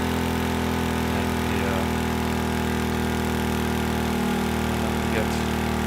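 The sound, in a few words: engine idling in Stormworks video game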